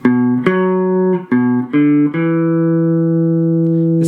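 A guitar plays the second part of a riff: several short plucked notes in quick succession, then a final note left to ring out, loud and close.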